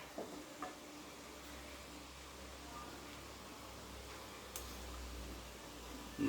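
Salted shiny-bush (mashithandu) leaves stirred in a pan for thoran, giving a soft, steady low sizzle with faint scraping across the whole stretch, quiet and close, with no talking.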